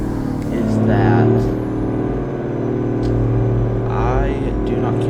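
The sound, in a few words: Peterbilt 359 truck engine in American Truck Simulator video game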